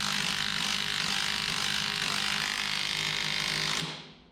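A power tool drives a bushing installation tool on the suspension of a 1976 GMC short bed truck, giving a steady close whirring grind that winds down and stops at the end.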